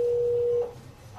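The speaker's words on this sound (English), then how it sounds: "Cybersecurity expert Jim Stickley sets up his phone to call my mom, posing as me." Telephone call being placed from a mobile phone, with a single steady electronic tone held for over half a second, then a short pause and the start of another tone.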